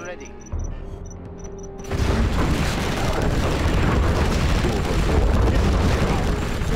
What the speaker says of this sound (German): Bombenteppich, Artillerie, Minen, Flammenangriff